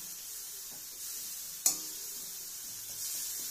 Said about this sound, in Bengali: নেড়ে চেড়ে নেওয়া হচ্ছে